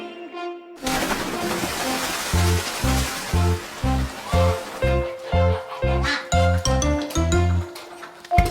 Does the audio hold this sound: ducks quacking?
yes